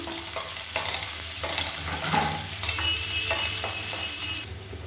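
Chopped large onions sizzle and hiss steadily in a hot pan while being stirred for a side dish curry, a close, continuous frying crackle with scraping stir strokes and no talk.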